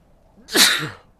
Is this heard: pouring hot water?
no